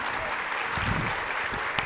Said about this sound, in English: Let's all give Paul a round of applause.